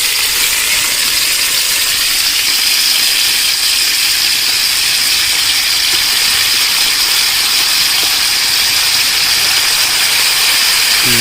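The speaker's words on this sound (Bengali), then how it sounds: "আমরা এখন মাংসটা ভাজি নিব মাটন বিরিয়ানির জন্য।" Mutton frying for biryani in a pot with cinnamon sticks and bay leaves makes a loud, continuous hissing sizzle that stays even and unbroken throughout.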